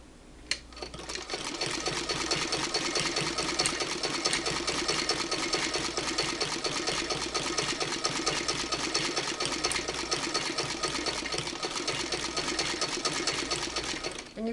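A hand-crank sewing machine stitches quilt binding in a steady, rapid mechanical chatter that starts after a brief pause and runs evenly at close range, with no voices over it.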